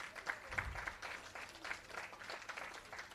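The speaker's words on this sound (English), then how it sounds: "let's give her a round of applause" Faint, distant audience applause with scattered individual claps at an employee service awards ceremony for a trade board's 40th anniversary, low in level and fairly even throughout.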